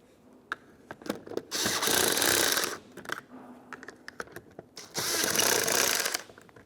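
Bursts of a power tool run on 10mm bolts fastening a license plate bracket to a 2006-2011 Honda Civic front bumper cover: two sustained whirring runs, each a couple of seconds long, amid close clicks and handling noises.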